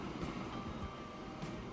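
A train rumbles past with a steady low roar and faint rail clatter in the Transport Fever 2 simulation game, a continuous, fairly quiet passing sound with no voices.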